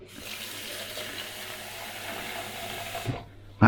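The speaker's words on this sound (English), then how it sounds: "like 300 ml of water," Kitchen tap running steadily into a sink or jug while measuring water for a tangy homemade mayo, a continuous low gush that cuts off sharply near the end, followed by a brief clunk.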